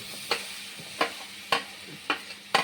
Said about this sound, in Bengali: এখন আমি এই সবজিটা দিয়ে দিচ্ছি, ভাজা সবজিটা, এটা আমি দিয়ে দিচ্ছি।